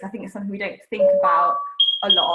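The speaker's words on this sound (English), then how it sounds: "that was my fire alarm making a funny noise." A home fire alarm gives a few bright, funny electronic beeps and a sustained tone, clearly heard under someone talking close to the mic.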